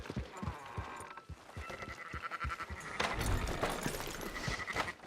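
Sheep bleat in the Red Dead Redemption 2 video game, mixed with rhythmic hoof clip-clops close by, at a moderate volume throughout.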